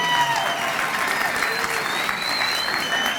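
Steady round of applause from a large audience at a winter high school commencement ceremony, dense continuous clapping at an even level with faint crowd voices underneath.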